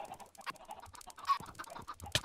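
A Minecraft chicken clucks in a quick series of short, soft notes, fairly faint, ending with a slightly louder squawk.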